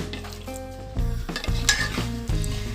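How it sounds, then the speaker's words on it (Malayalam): A spoon stirs salted dried shrimp and jackfruit seed curry with water in a pot, making close scraping and soft clinks against the metal in uneven strokes, with a low sizzle underneath. "ഇത് നന്നായി ഇളക്കി"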